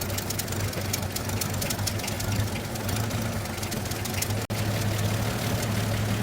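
A new portable generator engine idling roughly with a carburetor that needs adjustment, heard close up as a continuous uneven low rumble with a ticking, knocking texture and one brief dropout near the end.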